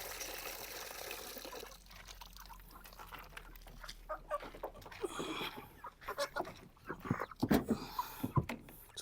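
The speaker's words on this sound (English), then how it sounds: "So basically this is our chicken" Broiler chickens on a South African poultry farm, soft clucks scattered among splashing and pouring water as the birds are hosed down, uneven bursts growing louder toward the end.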